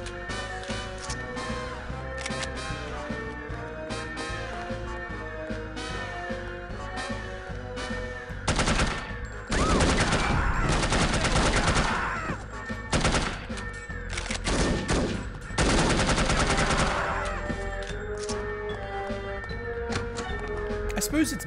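Gunfire in the video game No One Lives Forever, with bursts of rapid shooting and heavy blasts mixed with game music and a voice talking; the firing grows loudest and most intense in the second half.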